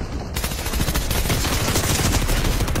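Submachine gun fire in Fortnite, a dense, loud continuous burst of rapid shots filling the whole clip with no talking.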